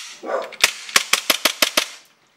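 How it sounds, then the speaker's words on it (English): Airsoft Glock pistol with a rocket valve upgrade dry fired in a quick run of about seven sharp, evenly spaced clicks, preceded by a short low rumble and followed by silence. "Let's just dry fire it."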